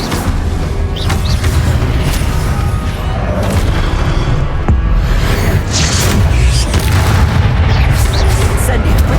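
Fiery spell blasts boom again and again through a loud Hogwarts Legacy battle, heavy low rumbles stacking up with barely a pause, and voices shout over the din.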